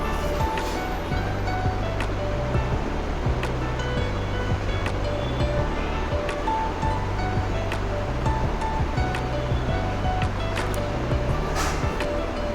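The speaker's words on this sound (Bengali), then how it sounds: "এই যে একটা বিচ পেরোলাম।" Ocean surf washing onto a beach near Digha, a steady broadband wash that stays continuous and moderately loud, with a low droning hum running underneath throughout.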